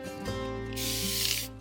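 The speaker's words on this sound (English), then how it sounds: "spraying it with isopropyl alcohol to keep getting those cells" A spray bottle of isopropyl alcohol mists over curing resin being worked into cells, giving a steady close hiss that swells louder midway and runs about a second and a half with no talking.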